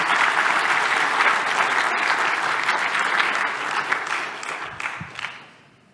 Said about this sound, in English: Let's give Leonard a big round of applause while we think up some questions.